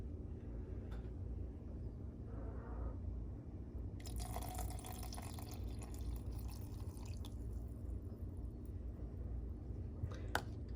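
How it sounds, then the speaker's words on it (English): Half a cup of water is poured into a pink drink mix of coconut milk and white grape juice, a faint, soft trickle and splash starting a few seconds in and running for several seconds, with a few light drips. "half a cup of water."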